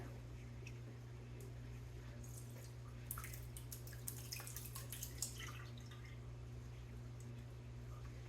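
Milk kefir draining through a large colander, with soft, irregular drips and small liquid splashes in the middle of the stretch over a steady low hum, fairly quiet and without talk.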